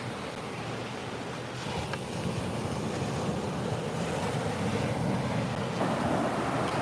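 Ocean surf breaks continuously in a broad, rushing roar that swells slightly louder partway through, steady and fairly close, with no voices.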